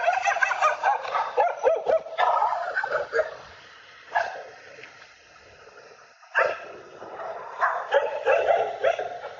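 Several dogs bark and yip in playful, irregular bursts outdoors in Kalimpong, fairly loud and close, with quieter pauses between volleys and some gobbling-like yelps.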